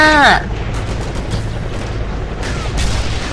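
Gunfire in the video game Code of Honor: a sharp blast with a sweeping whine at the start, then continuous loud rumbling battle noise and a further burst near the end.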